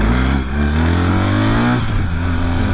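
A BMW GS 1300 Adventure motorcycle with an ASA automated gearbox pulls away in first gear, its loud, close engine droning steadily and rising in pitch as it accelerates.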